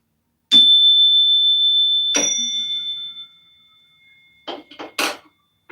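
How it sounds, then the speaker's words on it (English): A suggestion bell is struck twice, each strike giving a clear ringing tone that slowly fades, followed by a few short, lighter metallic clinks. No one speaks. "It's a suggestion bell"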